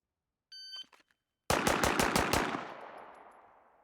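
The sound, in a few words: handgun firing six shots in live-fire drill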